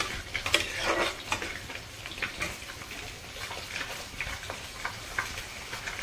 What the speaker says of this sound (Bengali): আমি এখানে সব মশলা দিয়ে আলুটা কষে নিয়েছি মাছের ঝোলে।